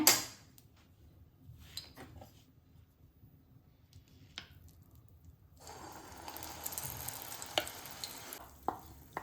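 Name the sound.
ground banana frying in ghee in a pan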